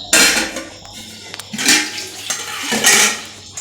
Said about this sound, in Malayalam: ചായ കുടിച്ചതിൻ്റെ പാത്രമുണ്ട് കഴുകാൻ